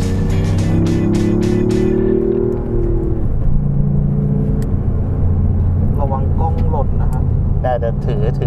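Toyota GR Yaris driving with a steady engine drone and road rumble inside the cabin, a brief rising rev early on, while people talk over it throughout.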